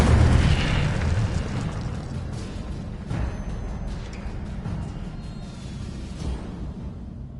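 A fire spell cast in the Hogwarts Legacy video game bursts out as a loud, rumbling boom at the start, then settles into a sustained roar with further soft thuds and whooshes.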